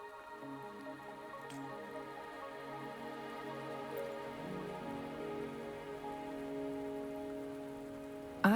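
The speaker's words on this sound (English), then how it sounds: "Are you trapped here by the rain?" Rain falls steadily in the video game Wuthering Waves, a soft, even patter on surfaces under a sustained tonal music bed, moderately quiet throughout.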